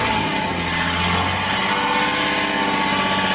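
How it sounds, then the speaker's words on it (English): Land Rover Discovery 4 engine held at about 2000 RPM in neutral, a steady, loud, continuous engine drone with no pauses, heard close and alone. "And now rev it at 2000 RPM and hold it for about 5 seconds"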